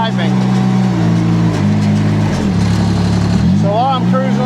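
A compact loader's engine runs steadily while the machine is driven, a continuous low drone with shifting pitch as it cruises, with a voice talking over it.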